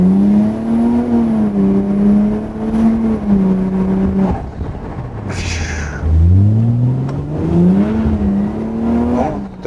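A Toyota Chaser Tourer V turbo engine revs up and down in repeated swells, its tone rising and falling, with a brief breathy whoosh midway before climbing again, loud and near.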